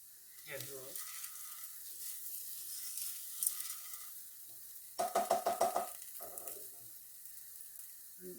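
Pearl barley risotto with garlic cooks in a pan as stock is gradually stirred in, giving a soft simmering sizzle and a quick run of rhythmic scraping stirs, with someone talking before and after.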